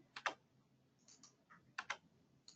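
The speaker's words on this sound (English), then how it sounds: "so I'm just typing these in" Typing on a computer keyboard while entering requirements in software: a few quick clusters of quiet, close key clicks separated by short pauses, with no voices.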